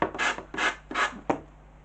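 Sandpaper rubs over decoupage paper in four short strokes, each a soft raspy scraping swish close by with brief pauses between them.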